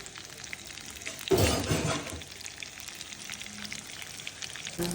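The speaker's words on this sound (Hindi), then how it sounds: "अब ये गर्मा गर्म तेल में तेज पत्ता और जीरा डाल के लग रहा है चावल को तड़का।" Hot oil bursts into a loud sizzle as bay leaf and cumin drop in, then settles into a steady crackling fry.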